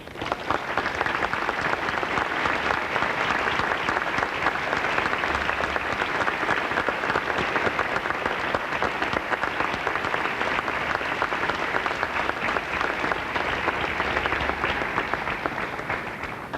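A large commencement audience at DePauw University's 1999 graduation gives a long, steady round of applause for the graduates' families, with dense, even clapping that holds at full volume from start to finish.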